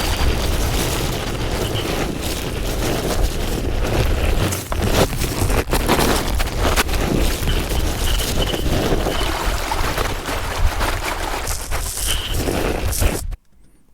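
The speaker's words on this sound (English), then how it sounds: "So I've loaded up this nature rainforest into it" A rainforest nature recording processed through a Concatenator plugin comes out as a dense, loud, rushing wash with booming thuds and grainy texture, ending abruptly.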